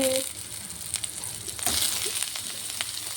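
Cauliflower stirs in a hot pan with ginger-garlic paste and turmeric: a close sizzle and frying hiss with scattered scraping taps of the stirring spoon.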